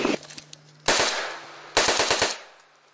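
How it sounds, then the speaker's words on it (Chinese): Two rapid bursts of automatic gunfire ring out loud and close after a single earlier shot, each burst a fast string of sharp cracks with echoing tails. "你愿意用什么词汇来形容枪声呢？"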